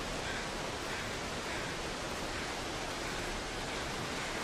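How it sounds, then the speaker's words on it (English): A steady, broad rush of falling water roars without a break, even and continuous like a nearby waterfall, in the survival video game The Long Dark. "I can hear the waterfall."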